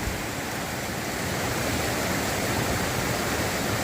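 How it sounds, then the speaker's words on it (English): A swollen, fast-flowing stream on the Appalachian Trail roars with a dense, steady rush of whitewater, loud and close throughout with no voices. "these raging streams."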